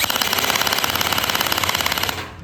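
An electric gel blaster pistol fires gel pellets on full auto, a loud, close, rapid mechanical rattle of evenly spaced shots lasting about two seconds before stopping abruptly.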